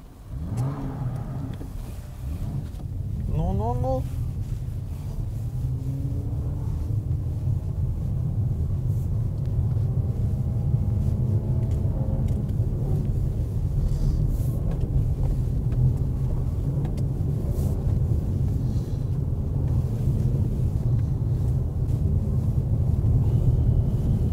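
A Jaguar XE accelerates and drives on, its engine revving up with rising pitch, then settling into a steady, loud rumble of road and engine noise.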